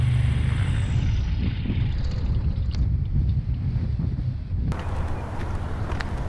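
A Cirrus SR22 propeller aircraft taxis with a steady, loud engine drone and low rumble heard from inside, with wind buffeting the microphone throughout and no talk.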